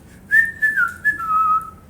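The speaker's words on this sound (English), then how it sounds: "The strange boy whistled" A person whistles a short tune of a few bright, clear rising and falling notes, close and alone in a quiet room.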